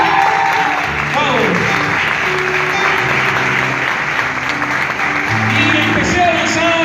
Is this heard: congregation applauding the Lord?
yes